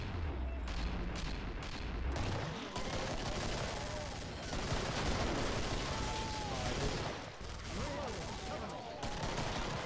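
A gun in the shooter game Killing Floor fires dense, continuous volleys that sound like machine-gun fire, with voices talking faintly underneath.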